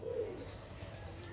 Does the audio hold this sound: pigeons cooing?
yes